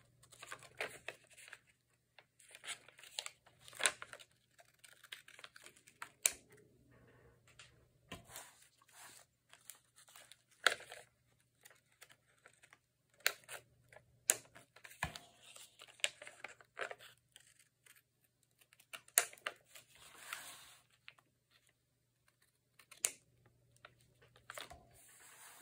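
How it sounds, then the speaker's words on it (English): Scissors snip and paper rustles while overhanging paper pieces are trimmed from a junk journal page, giving quiet, intermittent cuts and crinkles close by with no talking. "Now I need to trim off where these are overhanging."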